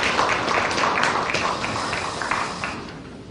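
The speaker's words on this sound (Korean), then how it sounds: "격려의 박수 하겠습니다." Applause from a university chapel congregation thanking the choir, a steady wash of many hands clapping at moderate volume that slowly fades out.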